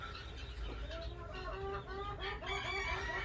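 Wild fowl cluck near a nest of eggs: repeated short, throaty calls overlap one another over a low, steady outdoor rumble, fairly close and moderately loud, with no voices.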